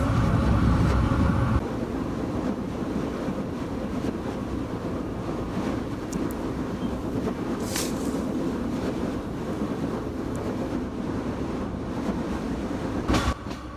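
A passenger train runs on rails through the countryside at dawn, its steady loud rumble and rattle continuing throughout, with a brief squeal near the end and no talking.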